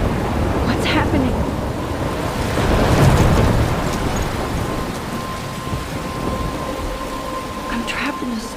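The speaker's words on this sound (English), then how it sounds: "I'm trapped in a storm?" Heavy rain pours steadily in a thunderstorm scene from the video game Life is Strange, with a loud rolling rumble of thunder swelling around the middle and then easing back under the constant downpour.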